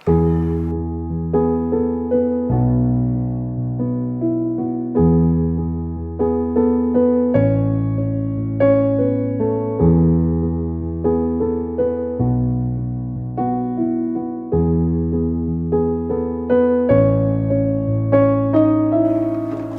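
A piano plays a steady intro of a song, repeated low chords and a simple melody in a moderate, even rhythm, with no voices.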